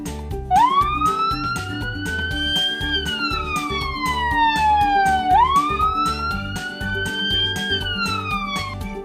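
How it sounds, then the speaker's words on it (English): A wailing siren rises and falls in long sweeping cycles, loud and close, over a steady rumbling engine and road noise. "the police car and ambulance and the fire truck comes with a siren"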